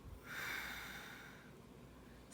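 Breath blown out during a conscious breathing exercise: a single close, airy exhale lasting about two seconds, soft and alone.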